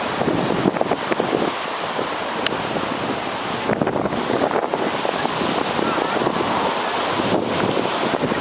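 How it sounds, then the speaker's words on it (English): Wind buffets the microphone amid rolling surf at Laniakea Beach on the North Shore, a loud continuous roar with gusty rumbles and swells of breaking waves. "I am at Laniakea Beach on the North Shore"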